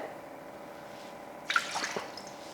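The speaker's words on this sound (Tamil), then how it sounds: "அதுக்கு இதில் ஒரு ரெண்டு கப் அளவுக்கு தண்ணி சேர்த்துக்கிறேன்" Water poured into a pot to make dough for kozhukattai dumplings, a short splashing pour that starts abruptly after a quiet pause and trails off in drips.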